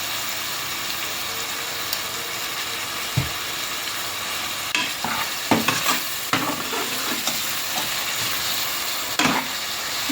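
Tomatoes sauté with salt in a pan for chana biryani under a continuous hiss, while scattered scraping stirs and clinks grow busier partway through, close and fairly loud with no talking.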